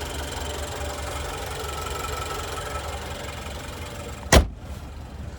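A 2024 Chevrolet Silverado 1500 pickup's TurboMax turbocharged engine idles steadily with a low, even rumble, then a sharp click or thump near the end briefly breaks the drone.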